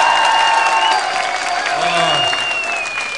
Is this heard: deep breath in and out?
no